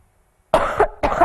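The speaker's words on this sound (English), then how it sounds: "I'll let you watch the movie while I cough." Two close, loud coughs from one person follow a moment of silence, the second arriving after a brief pause.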